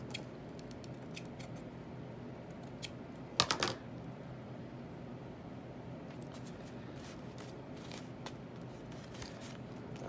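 Scissors snip through vintage handkerchief fabric, a brief crisp cluster of cuts near the middle, with faint scattered clicks and rustling over a low background hum.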